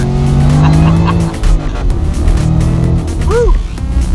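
A supercharged 627-horsepower 2015 Ford Mustang Shelby GT with a Ford Performance TBS-style blower roars hard under acceleration on a hot lap, engine loud and close with a brief tire squeal near the end.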